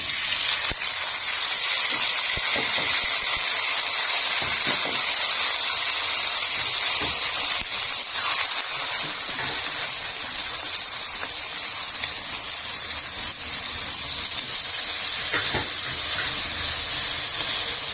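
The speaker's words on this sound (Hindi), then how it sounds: "अब इसके अंदर डाल देंगे सब्ज मिर्चें, प्याज, टमाटर।" Green chillies, onion and tomato hit hot oil for a Pakistani egg and potato curry, giving a loud, steady hiss and sizzle that runs unbroken with no talking.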